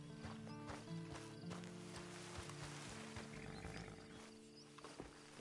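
Horse hooves on a path in Red Dead Redemption 2, faint clip-clop steps running steadily under a constant low hum and background game ambience.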